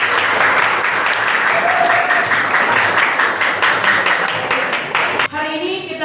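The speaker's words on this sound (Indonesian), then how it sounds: "Oke, tepuk tangan." A classroom of pupils bursts into brisk group clapping, loud and dense for about five seconds, then the applause breaks off abruptly and a voice begins speaking.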